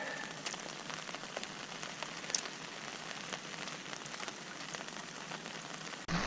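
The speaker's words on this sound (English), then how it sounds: "so it's still raining, and I'm still standing here, my umbrella" Steady rain patters on an umbrella held by an angler fishing for mullet, a dense even hiss of drops with occasional louder taps, close and continuous with no talking.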